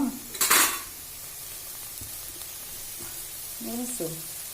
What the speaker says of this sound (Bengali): রান্নার পরে আমি এখন নামিয়ে দেবো।